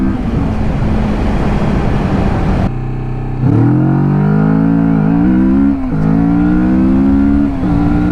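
A Kawasaki Vulcan S motorcycle pulls hard through a timed acceleration run, its loud, close engine note climbing in pitch after a short gap, dipping briefly at a gear change, then rising again.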